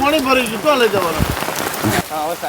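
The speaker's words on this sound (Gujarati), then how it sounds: "આમાં એ બાજુ વરસાદ છે હા વરસાદ તો ફૂલે ફૂલ છે" Heavy rain hisses steadily in the background in Finav village, Mahudha, while people talk over it nearby.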